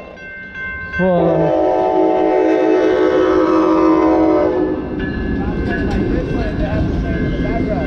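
Train rolling past at night with a loud horn blast near the start, followed by a continuous rumble and clatter of wagons close by, while a person swears briefly.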